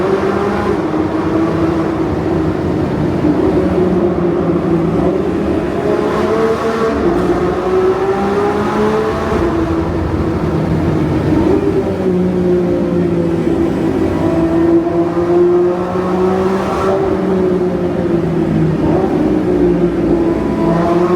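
A Lamborghini Revuelto's 6.5-liter naturally aspirated V12 revs hard and climbs through the gears, rising pitch sweeping up repeatedly with brief dips between shifts, loud and continuous.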